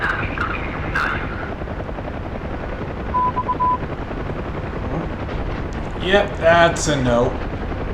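A UH-1 Huey helicopter in the DCS combat flight simulator, its hull holed by gunfire, gives a steady rotor and turbine drone throughout; someone speaks briefly near the end over the engine noise.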